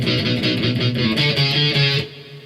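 Guitar playing a chorus section with palm muting, a quick chugging strummed rhythm of dense, percussive chords at close range, loud and steady before stopping abruptly near the end.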